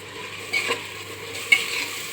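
Rice and dal stirred into fried onion, tomato, chilli and turmeric in a pot for khichdi: two soft scraping strokes about a second apart over a low, steady background hiss, with no talking.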